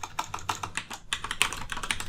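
Fingers typing on a computer keyboard, a quick irregular run of close, crisp key clicks with short pauses between bursts.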